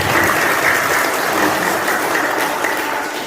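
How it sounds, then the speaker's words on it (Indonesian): A crowd at a social aid event in Cianjur claps for the youth organisation Pemuda Batak Bersatu (PBB), a dense, continuous wash of applause from many people, close and loud throughout. "Sekali lagi saya minta tepuk tangannya untuk PBB"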